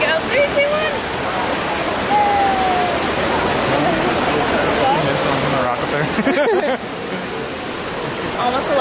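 Water of the Trevi Fountain in Rome rushing and splashing continuously, a loud steady roar under a busy crowd's chatter.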